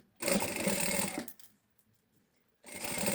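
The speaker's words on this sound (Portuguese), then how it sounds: "vamos passar uma costura aqui a toda a volta" Close, loud whirring of a sewing machine stitching a seam around a bag, one burst of just over a second, a short silence, then the motor starts again.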